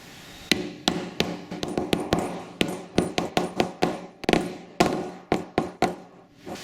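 A hammer drives a new bearing into a Fisher & Paykel washing machine, with some twenty sharp metallic blows in irregular bursts, close and ringing, with no talking.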